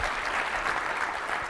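Brief burst of audience applause at a SharePoint tech presentation, steady and moderately loud throughout the short moment, with no talking over it.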